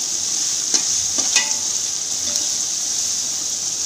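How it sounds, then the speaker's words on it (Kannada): Vegetable pulao stirred and frying in a pan, with a steady loud sizzle throughout and a few scraping spoon strokes near the start, close up and with no talking. "ಈಗ ಫ್ರೈ ಆಯ್ತಾ ಇದೆ."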